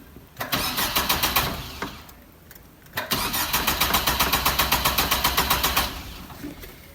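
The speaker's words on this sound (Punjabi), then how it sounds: "ਗੱਡੀ ਜਿਹੜੀ ਉਹ ਆਪਣੀ ਕ੍ਰੈਂਕ ਕਰ ਰਹੀ ਹੈ ਤੇ ਸਟਾਰਟ ਨਹੀਂ ਹੋ ਰਹੀ।" A car engine cranks repeatedly without catching, fast rhythmic starter chugging in two long bursts with a pause between, loud and close, after a morning when it had started fine.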